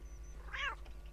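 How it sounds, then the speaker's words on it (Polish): A single short cat meow, mid-pitched and fairly close, rings out over a low electronic hum in the video game Postal 2. "Po kiego grzyba są tutaj te koty?"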